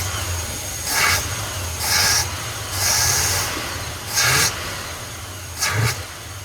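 A Chevy big block 454 engine fitted with an Edelbrock part revs in five sharp, separate throttle blips, each rising and falling quickly over a steady idle, loud and close with no talking.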